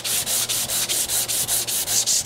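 A hand sanding block of 1-inch MDF backed with felt drives 150-grit sandpaper over wood in quick, even back-and-forth strokes, about ten close, rhythmic scratchy swipes with no talk.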